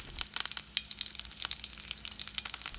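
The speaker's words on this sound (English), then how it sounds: "add 1 spoon of mustard seeds and we have to wait until it splatters" Mustard seeds and curry leaves splutter in hot oil for a pepper tamarind kulambu, sending out close, rapid crackling pops over a steady frying sizzle with no voices.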